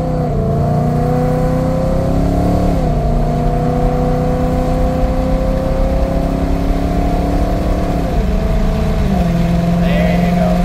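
A vehicle with a 6R80 automatic transmission accelerating, its engine droning loudly and steadily with pitch shifts as the torque converter locks up, heard from inside with a person talking over it.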